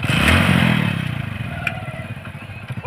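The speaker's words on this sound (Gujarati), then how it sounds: "નવું બાઇક છે શીખવાડતો મને નવું બાઇક છે પાછું એટલે સંભાળજો ધનાજી" A new motorcycle's engine runs with a low, rough rumble and some rattling clatter near the microphone. The sound fades somewhat and then continues unevenly, with no one speaking.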